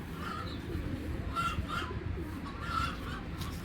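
A female racing pigeon of a big-size, foreign bloodline coos softly in a few short, faint calls over a steady background hum, with no talking.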